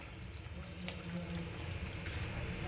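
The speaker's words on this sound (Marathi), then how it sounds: "बघा मी पाणी ॲड करते" Hot water poured into a simmering crab curry (chimbori rassa) in a home kitchen, a steady close splashing pour running without a break.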